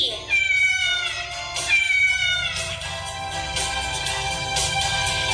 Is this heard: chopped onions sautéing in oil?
no